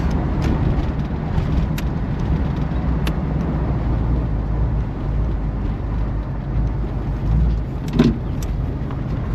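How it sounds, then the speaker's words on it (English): A Pontiac Grand LeMans muscle car drives along with a constant low engine rumble and road roar from inside the cabin, with a few small clicks and knocks. "she's a big wallowy American muscle car"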